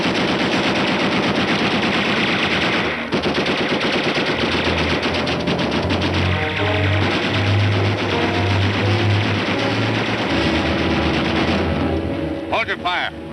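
Dense machine-gun and rifle fire rattles through a WWII war drama battle scene, loud and sustained in rapid bursts from start to finish, with voices shouting faintly beneath the shooting.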